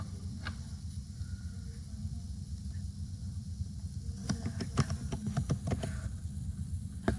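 Clustered keystrokes on a computer keyboard as a password is typed, a quick burst of clicks near the end over a steady low background hum, no voices.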